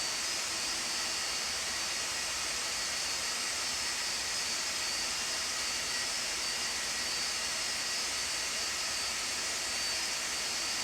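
Steady, dense roar of Boeing 747-200 jet engines in a flight simulator game, a constant broadband rush with a faint high whine, unchanging and loud throughout.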